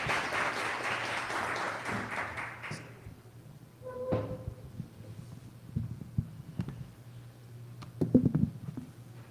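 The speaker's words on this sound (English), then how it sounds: "let's give him a round of applause" An audience at an AI for Marketers session claps for speaker EJ. The clapping is dense and steady for about three seconds, then fades out, leaving a quiet room with scattered small knocks and shuffles.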